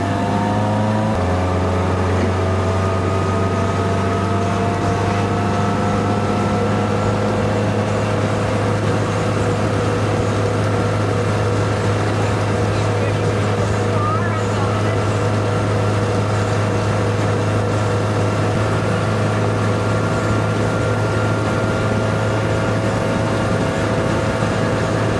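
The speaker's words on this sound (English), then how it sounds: "That is 55 miles an hour, and you can just hear the RPMs of the motor" A 1947 Jeep Willys CJ2a engine drones steadily at 55 mph in top gear, a loud sustained hum of high revs with road and wind noise throughout, and no talking.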